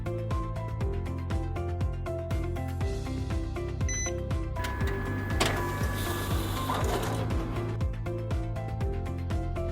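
A printer runs steadily, its rapid mechanical ticking and paper-feed whirring repeating throughout at close range, with a brief electronic chirp partway and a louder feed surge near the middle; no voices.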